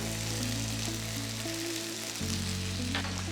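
Curry leaves crackle and sizzle steadily in hot oil with pork in a pepper roast, a dense, continuous frying hiss close by with no voices over it.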